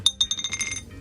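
A rapid flurry of sharp, ringing clicks and clinks, Hi-Lo dice rattling in a cup up close, tapering off after under a second.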